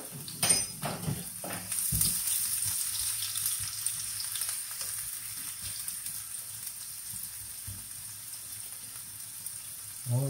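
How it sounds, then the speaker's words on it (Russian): Onions and a hot chili-garlic paste sizzle and crackle steadily in a hot pan, with a few clinks of a utensil against the pan near the start. "Обжариваем совсем немножко острой пасты."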